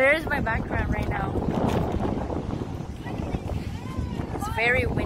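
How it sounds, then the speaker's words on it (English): Strong wind at a seaside spot buffets the microphone with a steady rumbling roar, while a person talks over it throughout. "It's very windy."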